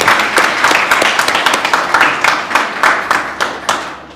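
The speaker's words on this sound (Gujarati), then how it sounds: "આપણે તાળી પાડીને" Audience clapping at a Good Samaritan Award ceremony for students, held by a Catholic mission in Nadiad: a loud, sustained round of applause with steady rhythmic hand claps throughout.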